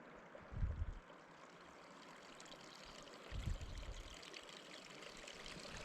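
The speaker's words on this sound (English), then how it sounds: "Water's running down here, you can hear it." Faint running water trickles and gurgles steadily down cliffs in the open Scottish hills, with soft low rumbles of wind breaking in twice.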